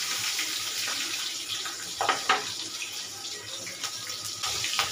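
Nigella seeds and a green chilli crackle in hot oil with a steady hiss, broken by sharper pops and spits around the middle and again toward the end.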